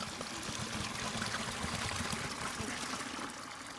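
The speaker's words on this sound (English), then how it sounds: "we are going to empty the hot water that's in them into this bucket right here" Hot water glugs steadily from a flask into a bucket in a continuous, close, fairly loud pour lasting several seconds, easing slightly toward the end, with no talk over it.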